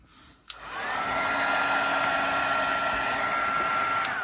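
A heat tool blows steadily while drying Distress Oxide ink on dark cardstock, starting with a click and then a loud, even whir with a high whine that runs alone until a brief click near the end.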